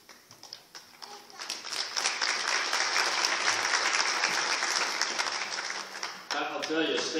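A graduation audience breaks into sustained applause after a speaker is introduced, beginning with a few scattered claps that swell into a loud, dense ovation before fading out.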